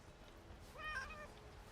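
A cat in the video game Skyrim gives a single short meow, quiet and rising in the middle of a faint background hush.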